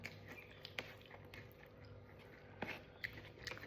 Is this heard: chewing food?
yes